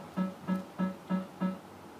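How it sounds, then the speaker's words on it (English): A SAM PuttLab putting analyser gives alignment feedback at address as a series of five evenly spaced short electronic beeps, about a quarter second apart, moderately loud and close with no talk. "That noise you're hearing is actually the SAM Puttlab, which I'm using the feedback on alignment at address."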